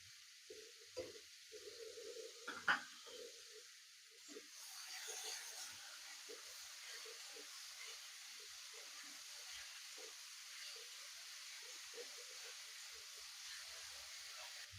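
Ginger and green chilies sizzle and hiss in hot oil in a pan while being stirred, with a steady frying crackle and a few louder scrapes and clatters near the start.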